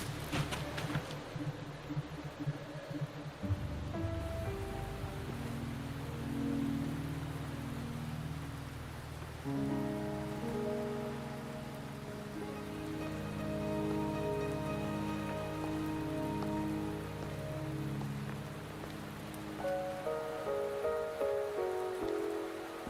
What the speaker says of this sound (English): Don't worry, the rain won't last much longer.